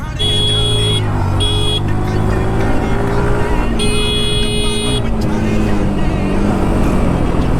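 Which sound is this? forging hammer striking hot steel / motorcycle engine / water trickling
motorcycle engine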